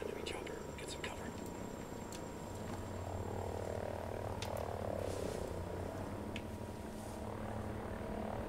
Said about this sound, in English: Spotted an enemy chopper.